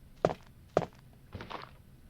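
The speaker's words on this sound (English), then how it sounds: "it's the zombies that sound like they're walking in wet mulch" Two soft thudding zombie footsteps in Resident Evil (1996) followed by a muffled shuffling step, close and quiet, with a damp squelchy quality like walking in wet mulch.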